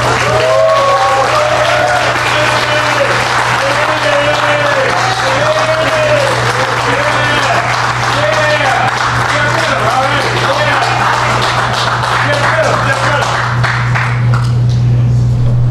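Sustained, dense applause fills a groundbreaking ceremony for Regal Mile Studios, loud and steady throughout, with voices from the crowd mixed in and a low constant hum underneath before the clapping thins near the end.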